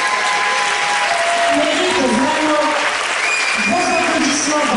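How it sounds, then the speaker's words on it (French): A gala crowd applauds loudly and continuously, dense clapping close and full throughout, with cheers and raised voices calling out over it. "on va l'applaudir bien fort"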